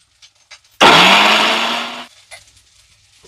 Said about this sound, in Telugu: ఇవి మిక్సీ పట్టే టైంలో నీళ్లు జరిపోకుంటే కొంచెం వాటర్ వేసి కూడా మనం మిక్సీ పట్టుకోవచ్చు